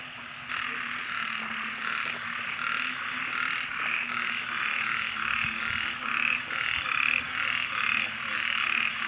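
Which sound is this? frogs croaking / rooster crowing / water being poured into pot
frogs croaking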